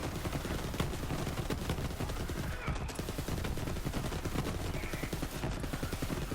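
Rapid, loud assault-rifle gunfire in Borderlands 3 rattles almost nonstop in dense bursts, with brief pauses and a faint voice beneath.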